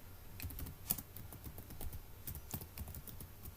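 Quiet, rapid typing on a computer keyboard during a programming session, irregular key clicks and taps close by without talk.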